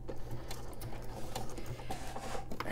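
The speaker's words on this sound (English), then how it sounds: "And I am gonna backstitch here." A sewing machine backstitching along a cut line on a playing card gives a steady, close mechanical whirr with rapid rhythmic needle chatter, running continuously at moderate volume.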